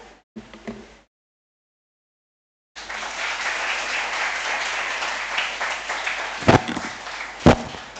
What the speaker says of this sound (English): The clapping says it all.